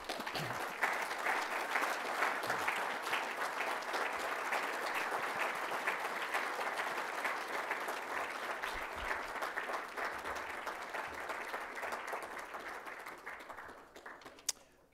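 An audience gives sustained, dense applause for the 2015 Character Award honorees at a tribute ceremony, steady clapping for about fourteen seconds before tapering off.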